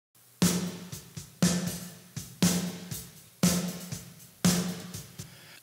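Snare drum hits run through a Universal Audio EMT-140 plate reverb plugin: six loud, evenly spaced strikes about a second apart, each with a bright, smooth plate tail ringing out before the next, with no talking.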